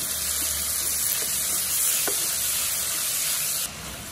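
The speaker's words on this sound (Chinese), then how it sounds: "然后把海鲜菇加进来，加一点点的盐， 给它翻炒均匀。" Seafood mushrooms with tomatoes being stir-fried over low heat, a soft continuous hiss with a few faint stirring taps, steady and close until it drops quieter near the end.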